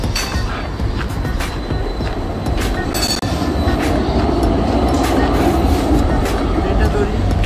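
A train pulls into a station in Austria with a loud, continuous rumble and a steady metallic wheel squeal that runs the whole time, while voices murmur faintly in the background.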